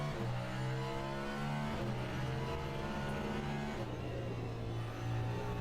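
A hypercar in the Le Mans Ultimate racing game, closing on a GTE car, holds a steady, high engine drone with a clear harmonic whine that rises and shifts with throttle throughout.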